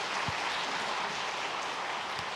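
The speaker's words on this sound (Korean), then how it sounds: "다 같이 큰 박수로 축하하시기 바랍니다." A church congregation claps steadily during a Sunday service, a dense patter of applause with no voices.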